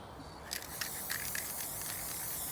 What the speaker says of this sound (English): It's really hard holding down the constant spray, you know.